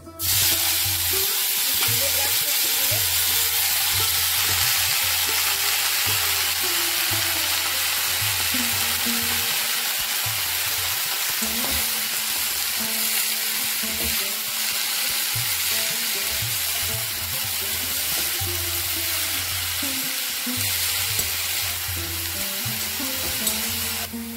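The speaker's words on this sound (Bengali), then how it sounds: "লঙ্কা ভাজা ভাজা হয়ে গেছে, এবার আমি ফুলগুলো দিয়ে দেব।" Moringa flowers tossed into hot oil in a wok after chillies have fried, giving a loud, continuous close-up sizzle with stirring scrapes throughout and no talking.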